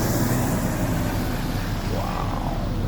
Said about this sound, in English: Here comes my fire truck, buddies.